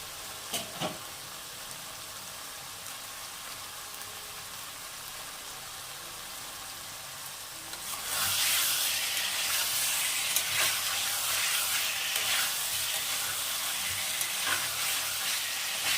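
Fried cauliflower florets go into a hot pan for an egg curry, and a soft background hiss suddenly swells into a loud, steady sizzle that carries on to the end.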